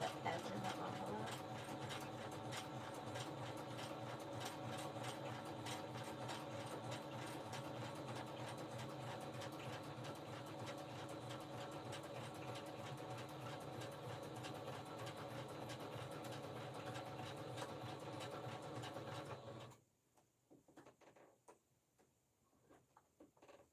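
A sewing machine stitches a puffy journal cover in one long, steady close-up run of rapid ticking needle strokes, then stops abruptly near the end when its bobbin thread runs out, leaving faint handling noises.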